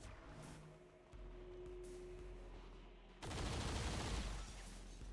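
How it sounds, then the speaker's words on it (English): Gunfire from the video game XCOM 2 Long War of the Chosen: a steady mechanical hum with faint tones, then a loud sustained burst of rapid shots and explosive noise that cuts in abruptly and fills the rest. "Taking heavy fire."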